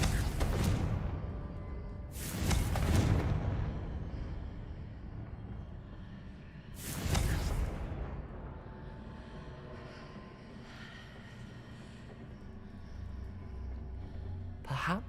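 Blasting spells cast in Hogwarts Legacy burst out as several sharp, fiery blasts with whooshing tails, a few seconds apart, over a continuous low ambient game backdrop.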